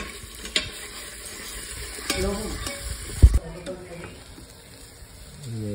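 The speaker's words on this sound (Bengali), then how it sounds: "ভালো করে নাড়তে হবে, চালটা ভাজতে হবে অ্যাকচুয়ালি" Rice with turmeric being stirred and fried in an Instant Pot for khichuri, a spoon scraping and knocking against the pot over a soft sizzle, with a louder clunk midway.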